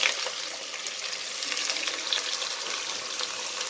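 About 300 grams of onions fry in hot oil for a restaurant-style mutton biryani, a steady loud sizzle with faint stirring clinks, no voices.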